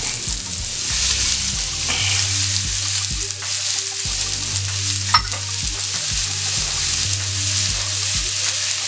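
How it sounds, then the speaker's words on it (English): Onion and green pepper sizzle and fry in a skillet for a country breakfast casserole, a steady close crackle over which a few rhythmic lower tones play throughout. "And we're going to add in our onion. We're going to add in our green pepper."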